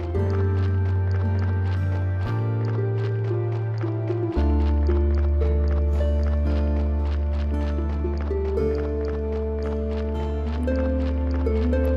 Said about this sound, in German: Esel im Weg.